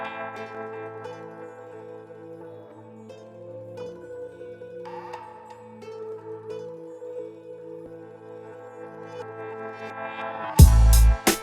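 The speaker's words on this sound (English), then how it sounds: "I just put this reverse track down below" An old-school freestyle hip-hop beat loop built in FL Studio plays steadily with layered melodic parts, and a reversed section at the very end swells up loudly and cuts off abruptly. No one speaks.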